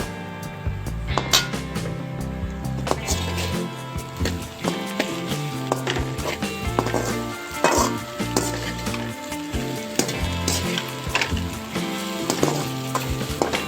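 Okra and a cracked egg frying in a pan with chilli powder and salt, a steady loud sizzle broken by clinks and scrapes of stirring throughout, with no talking.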